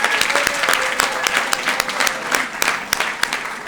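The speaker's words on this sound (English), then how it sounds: "so let's give it a round of applause for our parents." A graduation audience of students and families claps for the parents at an East Africa MPS ceremony, a dense, even wash of many hands with sharp individual claps standing out, sustained for a few seconds without talk.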